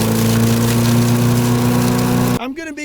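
A wood chipper runs with a steady, loud mechanical drone and hum, then cuts off abruptly near the end into quieter rumbling.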